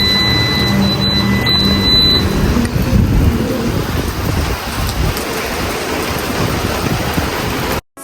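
Steady heavy rain pours for the whole stretch as a dense broadband hiss, loud and close, with a few faint high chirps early on and no talk, cutting off abruptly at the end.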